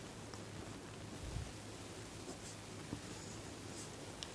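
Pen scratching steadily across paper while a maths exercise on sequence terms is worked out, a soft continuous scribble with faint taps, close and quiet, with no talk over it.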